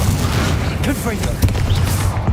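A Confringo blasting curse in Hogwarts Legacy, a burst of booming, crackling spell impacts amid dense combat noise, several short pops and thuds close together.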